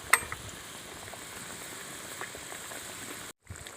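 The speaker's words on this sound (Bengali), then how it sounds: "একটু নেড়ে দেব, দিয়ে আরও কিছুক্ষণ আমি ফুটিয়ে নেব।" Fried fish simmering in mustard paste curry in a village kitchen, a close, steady bubbling sizzle with one brief break near the end.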